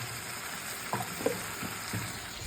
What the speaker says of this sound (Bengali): এই যে মা এখন ডিমের কারি রান্না করছে এখানে